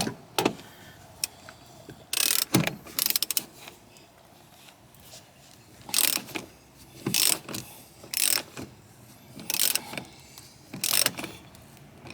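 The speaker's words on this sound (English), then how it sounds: "There's a bolt down in here we have to take loose to get the seat belt loose." A ratchet wrench loosens a seat belt bolt inside a 2006 Honda Odyssey van, with bursts of rapid clicking repeated in short spells separated by quiet pauses, close and crisp.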